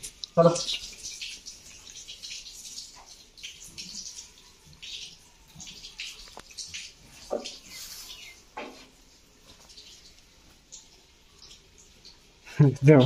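Water is poured over a cow in hot weather, with intermittent splashes and pours against a quiet background and people talking nearby.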